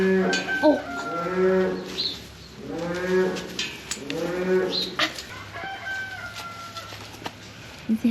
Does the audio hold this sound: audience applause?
no